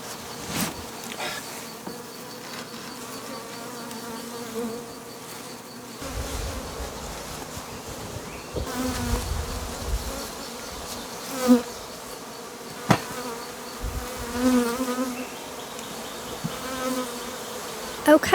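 Honeybees buzz around a hive late in the day, a dense, steady drone with individual bees passing close and loud at intervals.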